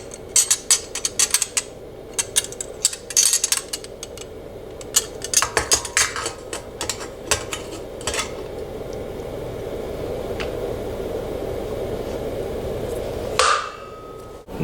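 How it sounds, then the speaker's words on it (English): Metallic clanks, pings and scrapes of a stainless beer keg lid being fitted back on with its O-ring during a DIY kegerator cleaning, in irregular bursts, close and fairly loud, ending with a sharp ring. "Now we'll replace the lid."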